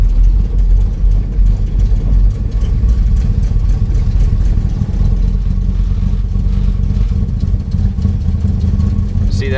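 A Dodge Dart with a carburetor fault running roughly and barely staying alive at half throttle, a loud, uneven, throbbing engine drone that never clears or rises into a proper rev.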